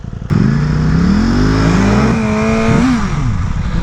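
A BMW S1000RR superbike engine screams at high revs while the rider holds a wheelie, loud and close, the pitch climbing and dipping as the throttle is worked, with no talk over it.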